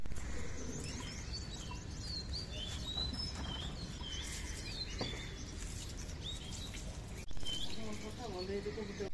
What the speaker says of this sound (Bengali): দেখুন কবুতরগুলো আসে দাঁড়াই আছে খাবারের জন্য